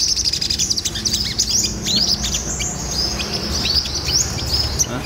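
A pet sunbird chirps close by in rapid, high, thin tweets and short trills, repeating almost continuously, over a low background hum.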